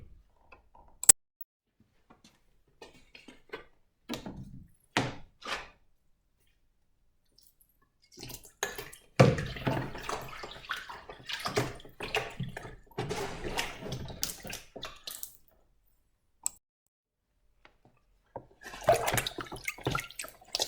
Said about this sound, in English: now we have to clean this, and we use clean water and soap.